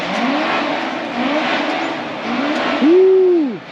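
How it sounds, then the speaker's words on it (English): A high-revving Toyota 4AG engine in a TRD Trueno with a carbon fiber hood climbs and drops repeatedly, then surges to a loud sustained scream before cutting off, heard over a busy crowd at a car gathering. "That is a high revving 4AG."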